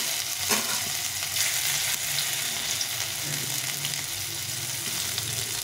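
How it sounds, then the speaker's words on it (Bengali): Crushed ginger fries in hot oil with mustard seeds for a tomato and coriander dal, a steady close sizzle and crackle running throughout with faint stirring. "আদাটাকে একটু ভালো করে লাল করে ভেজে নেব।"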